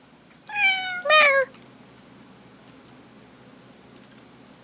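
Two clear meows from a cat in the horror video game Fausts Alptraum, close and fairly loud against quiet background, followed by a faint high chime near the end.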